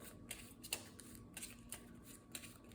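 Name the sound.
shuffling a deck of cards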